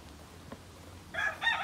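A rooster crows in a single short, bright call near the end, close and clear after a quiet stretch, with no one talking over it.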